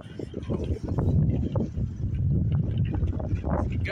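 Wind blowing outdoors on a cold, breezy November morning at Downsview Park in Ontario, a steady low buffeting rumble across the microphone that keeps on without a break.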